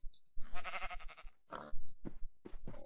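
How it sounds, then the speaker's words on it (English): Sheep in a blocky survival video game bleat several times in quick succession, close and clear, with short gaps between the wavering calls. "this should give me more baby sheep, because sheep are cool."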